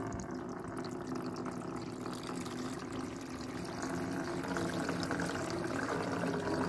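A watering can pours water into a greenhouse gutter partly clogged with gunk, making a steady, soft splashing trickle that runs quietly and continuously throughout.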